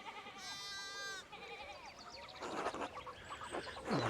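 A sheep in the video game Pentiment gives a clear, wavering bleat, followed by softer farm-animal calls and rustling noise, with no speech.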